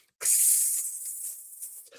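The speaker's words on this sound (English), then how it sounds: "Yeah, that spray can is crazy." A spray can lets out one continuous hiss, starting abruptly and holding steady for nearly two seconds before tapering slightly, fairly close and alone.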